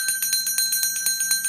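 A bell rung again and again in a quick, even run of bright metallic dings, about six strikes per second, close and clear with no talk over it, welcoming a first-time participant to a live reading session.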